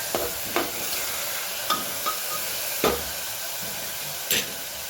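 Chopped tomatoes hit a hot frying pan with spices and sizzle steadily, while a spoon scrapes and clacks against the pan in several sharp, irregular stirring strokes close by.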